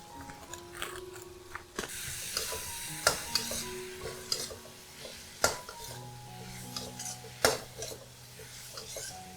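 Tofu skin stir-fried with green garlic in a wok: a spatula scrapes and clatters against the metal in irregular sharp knocks over a low, continuous sizzle, with no talking.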